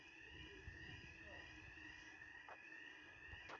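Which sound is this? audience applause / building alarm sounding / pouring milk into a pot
building alarm sounding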